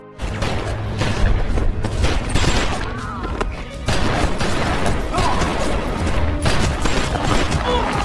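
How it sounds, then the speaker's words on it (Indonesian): Gunfire crackles through a film shootout scene, with dense bursts of shots and thuds layered over a busy, loud soundtrack. "Baku tembak pun tak terelakkan lagi."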